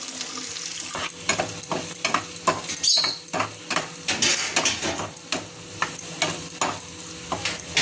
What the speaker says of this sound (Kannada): ಈರುಳ್ಳಿ ಚೆನ್ನಾಗಿ ಬೇಯಲಿ